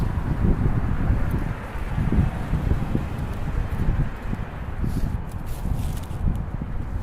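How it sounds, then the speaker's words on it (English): Gusty wind buffets a microphone outdoors at a camp gathering in California, a steady low rumbling roar that swells and dips throughout with no voices over it. "this wind's bothering me"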